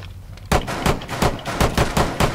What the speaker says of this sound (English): that sounds beast, that gunshot